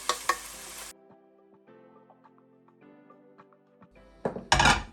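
Pork is stirred in a hot pan, with scraping and sizzling bursts at the start and end around a quieter stretch of faint clinks and low tones.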